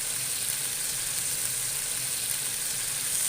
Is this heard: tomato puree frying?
yes